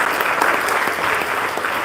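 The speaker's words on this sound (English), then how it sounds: "so give yourselves a round of applause." Crowd applause at an evening lighthouse charity auction during an international boat show, dense and loud clapping filling the space throughout the short moment.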